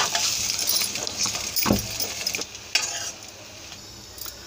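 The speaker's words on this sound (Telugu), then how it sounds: "లైట్గా కొంచెం కలర్ వచ్చే వరకు వేయించుకుంటే సరిపోద్దండి" Steady sizzling of meal maker (soya chunks) frying in oil, with scraping and stirring of a utensil in the pan and a few clinks.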